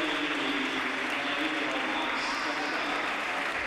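Supporters of the Italian national team cheer and applaud from the stands at an indoor apnea world championship, a dense, steady roar of clapping and crowd noise throughout.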